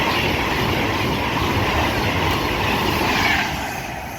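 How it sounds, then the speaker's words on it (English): A Pendolino passenger train on the West Coast Main Line speeds through a station, giving a loud, continuous rushing rumble of wheels on rail that fades slightly toward the end. "passing through now is another Pendolino going from London Euston to Glasgow Central"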